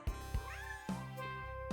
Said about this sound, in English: My cat just walked in too